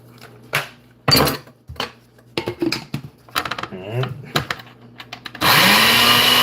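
A kitchen blender whirring green seasoning with vinegar, after scattered knocks and clatter of the jar being set up, then a loud steady motor drone starting near the end, with some talking early on.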